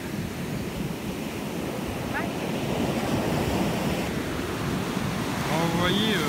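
Big ocean waves breaking and rolling onto a surf beach, a steady broad wash of surf with wind buffeting the microphone throughout, growing slightly louder toward the end, with faint brief voices near the close.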